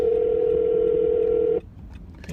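A steady telephone ringback tone sounds while a call is placed, a single sustained buzzing tone lasting about a second and a half before cutting off, followed by faint muffled noises.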